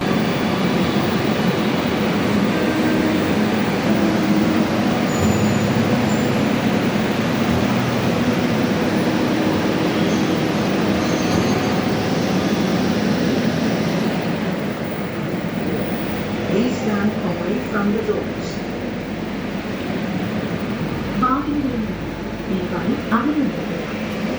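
A metro train ride from Town Hall in Ernakulam, with a steady loud rumble and hum of the moving carriage throughout and people talking over it.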